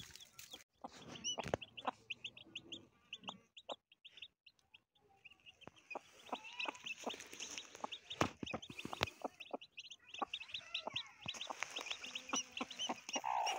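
A hen with only one wing clucks in a village coop, with other chickens chirping and clucking around her, plus scattered sharp knocks and rustling and no talking.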